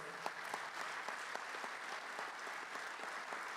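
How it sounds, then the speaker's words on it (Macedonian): Audience applause fills a ceremonial session of the Strumica municipal council, a steady, even patter of many hands clapping continuously at moderate distance, with no voices standing out. "Аплаузот може да трае"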